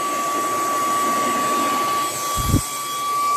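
A DRECELL cordless handheld car vacuum with a brushless motor runs with a loud, steady high-pitched whine and airy rush, close up, briefly interrupted by a low thump near the end before the motor continues.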